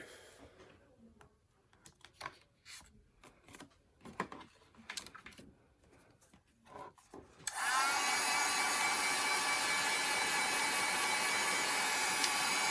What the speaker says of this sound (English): we're going to hit it with the heat tool just to make sure it's dried all the way